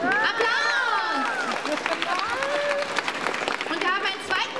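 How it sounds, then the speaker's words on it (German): Audience at a book fair quiz applauding a winner, clapping mixed with cheers and excited voices, people talking and shouting over the crowd noise. "Wir haben einen Gewinner. Applaus!"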